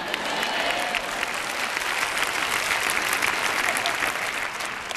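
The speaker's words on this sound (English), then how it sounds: "Well, you ought to clap because I'm telling you the truth tonight." Sustained applause from a large church audience at a Joyce Meyer sermon, a steady dense wash of clapping for the whole stretch with no voice above it.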